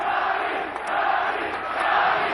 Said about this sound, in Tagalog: And listen to that crowd, Kinito.